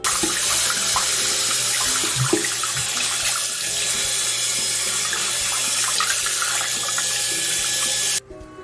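Tap water pours steadily over a white quartz crystal in a sink, a loud continuous splashing rush that cuts off abruptly near the end.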